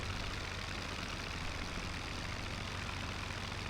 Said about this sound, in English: a Lerone engine sounds very much like a French engine